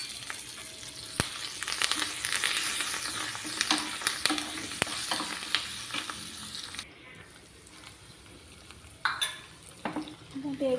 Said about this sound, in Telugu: వేగుతుంది కదండి